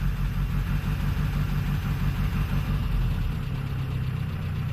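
A cranky old 1948 Peugeot 202 idles steadily just after starting, its low engine rumble and faint uneven knock running continuously and close by with no talk.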